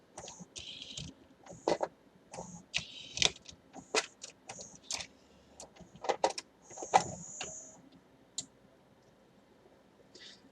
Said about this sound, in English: it has the little robot arm that puts the disc back